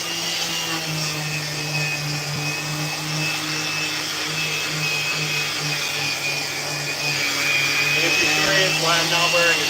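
A power tool shapes a wooden skateboard deck while an attached vacuum draws off the dust, producing a loud constant whining drone with a steady hum beneath, as someone talks over it.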